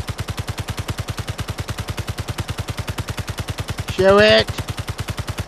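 Rapid, evenly spaced gunfire in Space Engineers, a loud, relentless mechanical stream of shots continuing throughout, briefly overlaid by a short spoken phrase near the end.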